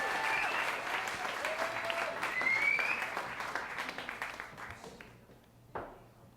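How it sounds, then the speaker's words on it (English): An audience applauds and cheers as comedian Karen Bianco is called to the stage at a comedy show. Dense, close clapping with a whistle rising through it holds for several seconds, then thins and fades away. "Big round of applause for Karen Bianco."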